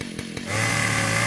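Chainsaw in the Mystery of the Ancients video game roars to life after a few faint clicks, then holds a loud, steady engine drone to the end.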